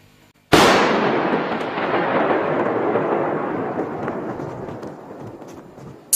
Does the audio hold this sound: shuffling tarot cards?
no